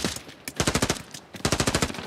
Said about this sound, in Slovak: oni po mne strieľajú